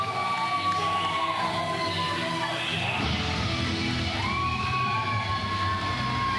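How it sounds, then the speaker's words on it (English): A wrestling arena crowd roaring and cheering as the McIntyre brothers make their entrance through the audience, a dense sustained wall of noise with whistles and yells. "Crowd getting fired up right now."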